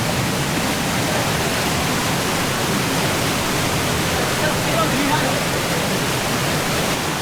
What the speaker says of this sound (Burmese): ဒီလမ်းကြားလေးကရေစီးတော်တန်တယ်ဗျ